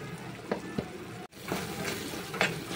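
Egg fry is stirred in a hot pan with turmeric and onion paste, a continuous sizzling fry with spoon scrapes and a brief break near the middle before the sizzle resumes.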